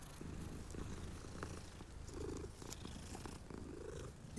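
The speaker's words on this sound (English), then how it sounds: "now if we were to go and pet the cat again," A cat in Hogwarts Legacy purrs softly while being petted, a faint, steady rumbling purr with gentle rhythmic swells.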